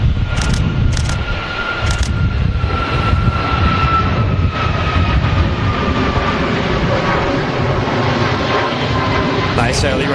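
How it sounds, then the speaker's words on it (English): A Boeing 737-8200 jet airliner takes off, its steady engine roar holding loud and continuous throughout, with a faint rising tone and scattered chatter underneath. "Nice early rotation there from the Max."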